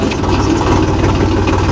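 A loud tractor engine idles with a steady low throbbing rumble, continuous and close by, with no voices.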